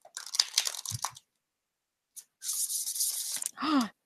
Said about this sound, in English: I'm going to shuffle the deck, Denise.